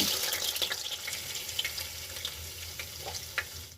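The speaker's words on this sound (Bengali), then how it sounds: "প্রথমে কড়া বসিয়ে আলুগুলোকে ভেজে নেব।" Potatoes fry in mustard oil in a wok, giving a steady, moderately loud broadband sizzle with scattered sharp crackles and pops throughout, alone with no voices.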